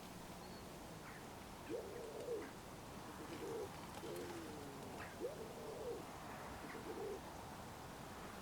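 Wood pigeon cockbird cooing near decoys over cut silage, a series of soft, low, hooting coos repeated several times at moderate distance against a quiet open-air background.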